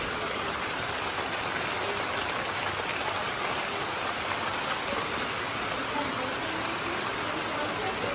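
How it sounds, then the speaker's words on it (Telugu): Heavy rain pours steadily outside as a dense, even hiss that holds at the same loud level the whole time, with no breaks or distinct drops standing out. "ఇదిగోండి ఫుల్గా వర్షం పడుతుంది"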